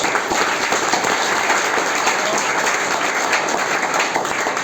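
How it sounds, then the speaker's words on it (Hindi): Large audience at a motivational talk for army academy students in Hisar, giving dense, steady, enthusiastic applause that holds loud and even throughout, with no talking over it. "इनके लिए जोरदार तालियां"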